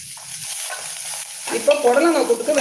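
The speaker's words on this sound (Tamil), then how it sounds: "வெங்காயம் நல்லா வதங்கிடுச்சு" Onions sizzle and crackle in a hot pan, with a soft hiss first and then louder spattering and popping as they're stirred, no voices.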